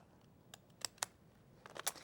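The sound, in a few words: decorative edge scissors cutting a seed packet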